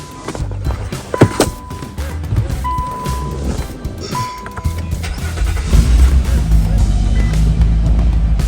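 An Infiniti engine fresh from a thermostat replacement is started, with a few clicks and beeps giving way to a rising, steady engine rumble that grows louder and holds close by.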